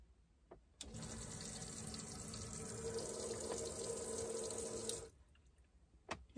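Water runs from a newly replaced kitchen faucet in a camper van, a steady close hiss that starts abruptly, flows for about four seconds and then cuts off, followed by a couple of faint clicks in a quiet room.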